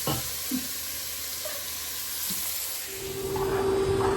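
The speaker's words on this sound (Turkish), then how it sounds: "Güzelce kavurduk. Etini, şeyini falan soğanıyla." Meat and onions sautéing in a hot pan with a steady crackling hiss, a few soft clinks of a utensil, and a brief tonal hum near the end.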